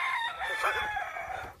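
A single rooster crow, drawn out and fairly loud, heard close by with no talking.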